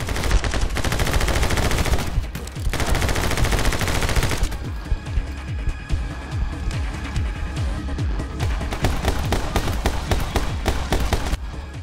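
Rapid, loud bursts of gunfire from the action video game My Friend Pedro, dense automatic shots with brief pauses, continuing steadily throughout.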